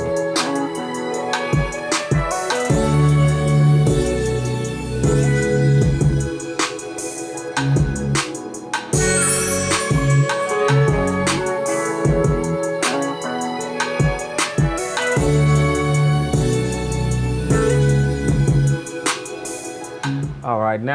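A full hip hop beat plays steadily with a punchy kick and snare groove under layered melodic synths, loud and continuous throughout.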